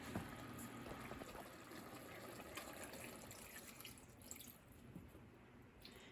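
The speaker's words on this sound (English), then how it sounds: "I'm going to add a little bit of water." Water poured into a pan of browning giblets for a gravy base, a faint steady trickling and splashing with a few drips, no talking over it.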